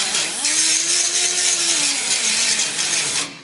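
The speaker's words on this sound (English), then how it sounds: "The normal way that a lot of people think grinder is you grind like this." An angle grinder works on the metal of a truck cab corner, a loud continuous high whine with a shifting tone as the disc bites, close and unbroken for a few seconds.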